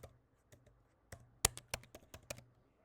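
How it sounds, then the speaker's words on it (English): Computer keyboard keys are typed while coding a Java solution: sparse, crisp clicks, a few isolated taps and then a quicker run of keystrokes, close and fairly quiet with no talking. "I will keep typing it and you guys can also see along the way."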